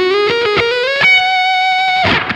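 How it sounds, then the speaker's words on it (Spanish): A Les Paul electric guitar on its neck pickup, pushed through a heavily loaded distortion pedal, rings out sustained harmonic-rich notes: a few picked attacks, then a long held tone and a final burst of strumming, loud and close with no voices. "Usamos una distor bien cargada."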